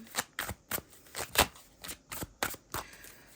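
Tarot cards riffle and slap in quick repeated bursts, about a dozen crisp shuffles in a steady rhythm, close and clear with no talking.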